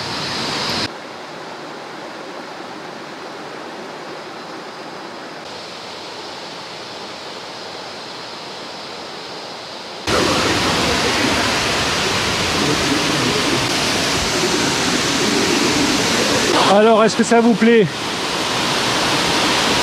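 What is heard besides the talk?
waterfall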